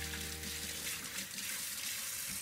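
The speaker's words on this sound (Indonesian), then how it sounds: "Bentar, aku cuci tangan dulu ya." Hands are washed under a running kitchen tap during ramen cooking, a steady close hiss of flowing water with no talking.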